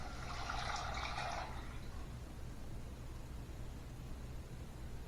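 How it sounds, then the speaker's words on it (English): Water pours into a pot for tomato egg drop soup, a brief splashing rush in the first second and a half that fades into a faint, steady background hiss. "And now we put the water inside."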